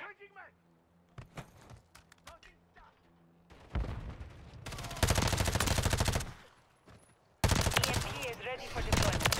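Lachmann Sub submachine gun fire in Call of Duty: Modern Warfare 3 multiplayer, loud sustained bursts of rapid automatic shots in the second half, preceded by quieter game sounds and talk.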